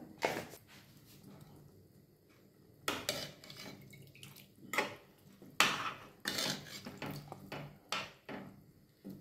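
A spoon stirs khichuri made with foxtail millet, turmeric and salt in a pot, giving irregular scraping knocks and clinks against the metal, soft and close, with gaps between strokes.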